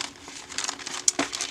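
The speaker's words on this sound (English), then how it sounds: "This is a vintage wrapping paper for Christmas." Vintage Christmas wrapping paper crinkles in hands, soft papery rustles building into a few sharper crackles, close and fairly quiet.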